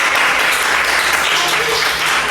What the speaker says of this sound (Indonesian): Oke, tepuk tangan untuk Maulana.